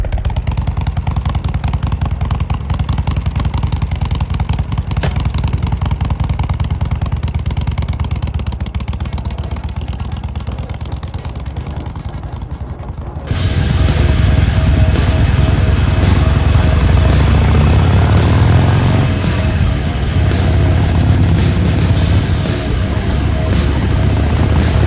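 A 2016 Harley-Davidson Seventy-Two motorcycle engine runs with a steady loud rumble, growing louder and rougher midway as the throttle opens and the bike rides on.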